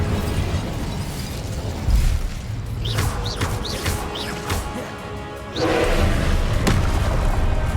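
Spell blasts from the Incendio fire spell in the video game Hogwarts Legacy: a string of whooshing, bursting fiery booms, with a denser, louder blast near the end, all over a steady rumbling game backdrop.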